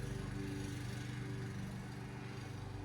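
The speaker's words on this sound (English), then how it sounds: "my neighbor wants to start mowing his yard." A neighbor's lawn mower engine drones steadily at a distance, a faint, even hum that runs without pause.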